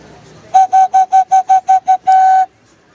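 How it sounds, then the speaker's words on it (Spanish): A small clay toy whistle is blown in eight quick, even toots followed by one longer sustained blast, loud and close, at a Xantolo festival in Huejutla, Hidalgo, Mexico. "Estos, por ejemplo, son silbatos, ¿verdad?"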